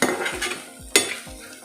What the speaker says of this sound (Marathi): आपण एकदा मध्ये ही भाजी पुन्हा ढवळून घेणार आहोत